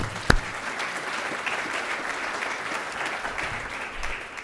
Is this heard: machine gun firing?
no